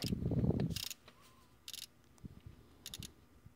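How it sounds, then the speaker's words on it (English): A ratchet loosens the bottom starter bolt on a 3.0L Ford Freestyle: a low rustling rumble, then a few short, quiet bursts of clicking spaced across the clip. "So I'll go ahead and remove the bottom bolt now."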